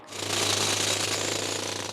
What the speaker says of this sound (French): quelques coups de marteau-piqueur ont suffi pour que la Grande-Bretagne ne soit plus vraiment une île